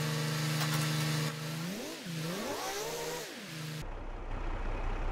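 A tractor pulling a baler in Farming Simulator 22 drones and revs, its engine pitch rising and falling in a couple of swells before cutting to a rougher, lower rumble near the end.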